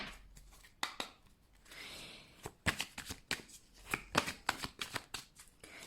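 Tarot cards shuffled by hand, a string of close, crisp riffling bursts and soft slaps in irregular rhythm, growing busier in the second half, alone without talk.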